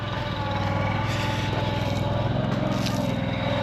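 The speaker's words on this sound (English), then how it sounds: "Little 2-ton roller does a good job." A small 2-ton roller is compacting a stone building pad, its engine droning loud and close with steady rumbling vibration throughout.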